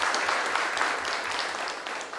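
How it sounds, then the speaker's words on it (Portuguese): Brief applause for city councillors at a public hearing on land regularization, a short burst of crowd clapping that is moderately loud and slowly fades. "Uma salva de palmas para os vereadores"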